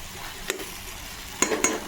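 Tomato pieces and stemmed coriander cook in a pan for a tomato pickle, with a soft, constant sizzle and a few quick scrapes of stirring.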